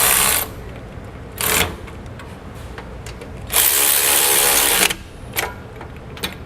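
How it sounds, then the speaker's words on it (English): A power tool drives an 18mm socket to snug sway bar end link nuts while a Roadmaster front anti-sway bar is fitted on a 2017 Jayco Redhawk motorhome, with loud whirring bursts of about one second and a longer run. "I'm going to come back with that 18mm socket, and we're just going to snug them up"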